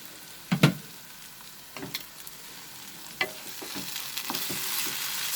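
Potato and bathua saag cooks in a pan over a medium flame, giving a soft, steady sizzle broken by a few sharp scraping and stirring knocks, one louder clatter early on.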